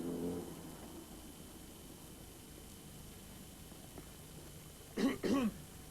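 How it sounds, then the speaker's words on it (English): Two quick, raspy coughs come near the end of a quiet stretch with a steady hiss in the background. "It's nasty cough you've got there."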